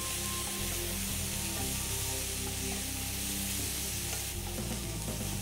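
Green chillies with seeds frying alongside onions, peppers and spring onions for chilli paneer, a steady, close sizzle with occasional stirring scrapes throughout.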